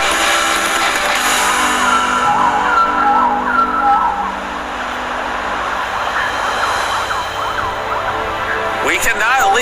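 Voices imitate whale calls with wavering, sliding moans rising and falling over a steady background rumble.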